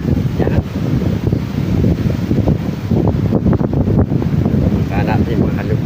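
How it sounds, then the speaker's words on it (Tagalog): Strong wind roars loudly and continuously across the microphone outdoors, a dense rumbling buffet, while a voice speaks underneath it in places. "sobrang lakas niya ng hangin"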